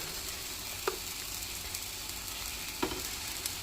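Small portions of malt pancake batter go into a hot pan, and a faint, steady sizzle hisses throughout. A couple of soft taps stand out above it.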